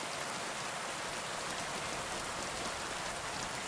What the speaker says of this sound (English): that rain sound is really good. That is pouring.